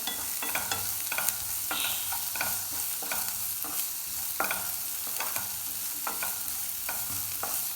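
Green beans stir-fried in a pan for poriyal, a steady sizzle punctuated by regular sharp spatula scrapes and taps against the pan, no talking.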